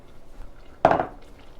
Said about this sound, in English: Go ahead, stir it around